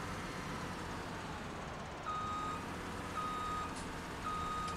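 A vehicle in Farming Simulator 17 backs up with its reversing alarm, three evenly spaced beeps about a second apart sounding over a low, constant engine rumble.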